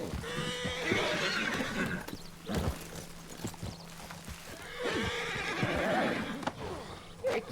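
In Red Dead Redemption 2, a horse whinnies loudly twice, with a gap between, while hooves clip-clop steadily underneath, close and clear.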